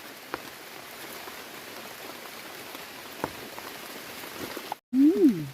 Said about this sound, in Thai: ฝนก็ตกใส่กล่อง